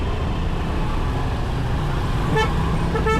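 Busy road traffic rumbles steadily close by, with engine noise throughout and two short car horn toots near the end.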